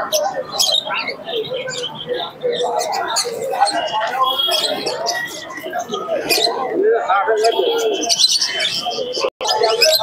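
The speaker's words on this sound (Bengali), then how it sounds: "এখানে একটা জ্যাক আছে, খুবই সুন্দর কোয়ালিটির কবুতর আছে" Pigeons coo and birds chirp throughout a crowded, noisy bird market in Santipur, with people talking in the background over the continuous clamor.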